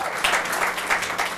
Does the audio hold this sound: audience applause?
yes